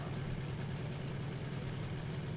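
A steady low drone from an air-cooled flat-six 145-horsepower engine at an airshow, heard faint and distant with no talk.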